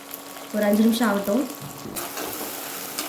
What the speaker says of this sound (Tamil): அடுப்பு வந்து லோ ஃப்ளேம்லேயே வச்சுட்டு இந்த வெங்காயம் தக்காளி நல்லா மசிஞ்சு வர அளவுக்கு நல்லா வேக விட்டுக்கலாம்.